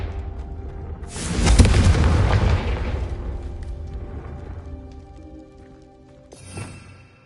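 Confringo fire spell cast in the Hogwarts Legacy video game, a deep booming blast that swells about a second in and rumbles for several seconds before fading, followed by a shorter burst near the end.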